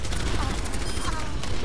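Rapid gunfire rattles in a dense continuous burst while shooting down a turret in the Overwatch game, loud and close with a busy battle mix behind it.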